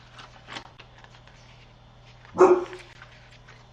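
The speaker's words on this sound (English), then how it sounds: "my boxer's decided he's gonna come downstairs and bark" A boxer dog lets out a single loud bark indoors, preceded by a faint earlier yelp, with a steady low household hum underneath and otherwise quiet surroundings.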